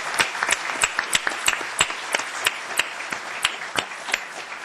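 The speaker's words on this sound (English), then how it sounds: "Would you all please give a round of applause to the panel?" Scattered applause from a modest audience, with distinct individual claps standing out in an irregular rhythm, fairly close and moderately loud.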